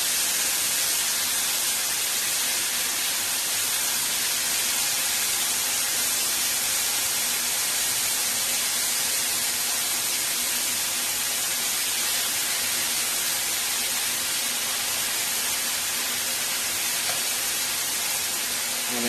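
Beef sizzling in a hot pan with oil and soy, a loud, constant hissing crackle that holds steady from start to finish with no voices over it.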